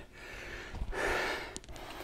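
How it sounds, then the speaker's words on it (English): Heavy, labored breaths from a rider pushing hard on a Sole SB900 home exercise bike, a couple of deep gasping inhales and exhales, fairly close and moderately loud. "you can hear me laboring my breathing."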